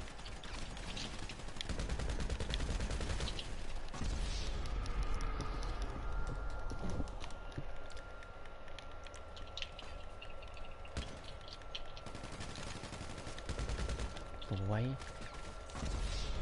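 Submachine gun fire in GTA V, dense loud bursts of shots running through the clip alongside other game action, with voices talking over it.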